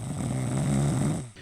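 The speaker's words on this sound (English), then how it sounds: "Snoring can be just a benign annoyance or signal a real medical issue." A person snoring, a steady rasping drone with a strong low buzz held through most of the stretch before trailing off at the end, close and fairly loud with no talk over it.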